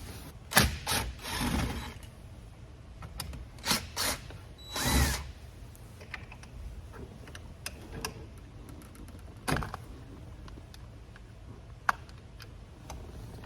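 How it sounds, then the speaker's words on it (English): Phillips head screws being backed out of a Mercury binnacle control plate on a boat shift and throttle box, with short close whirring bursts and clicks separated by quieter ticking handling sounds and no speech. "I'm gonna go ahead and take these 2 Phillips head screws out"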